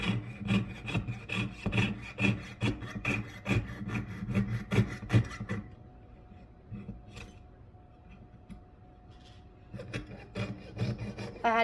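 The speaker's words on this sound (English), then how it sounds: "If I had to pick a least favorite part about smithing, it would be sawing out intricate details" A jeweler's hand saw cuts intricate details in metal with quick, rhythmic rasping strokes. The strokes pause midway with a faint hum, then briefly resume.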